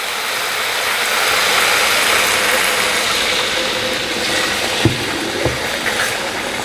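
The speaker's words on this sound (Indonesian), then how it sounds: "Sekarang saya akan masukkan airnya." Water poured into a hot pan of marinated beef for Indonesian empal serundeng gives a steady, close hiss and sizzle that holds evenly throughout, with a couple of faint clicks near the end.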